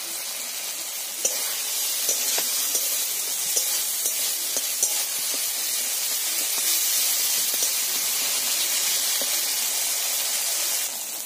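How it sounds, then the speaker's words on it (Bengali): Spices and oil sizzle steadily in a pan while frying for a fish curry with bottle gourd, a loud, close hiss broken by occasional scraping taps of stirring. "ভালো করে নেড়ে করে বেশ সুন্দর করে আমি কষিয়ে নেব।"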